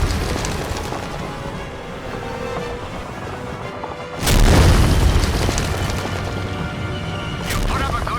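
Artillery shells explode in the D-Day battle game Monte Cristo's D-Day, a heavy deep boom bursting loud midway and rolling off, followed by another blast near the end, over a dense background of battle noise.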